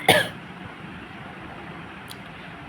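One short, sharp cough with throat clearing from a person with a cold bursts out close at the start, then quiet room ambience with a faint click later.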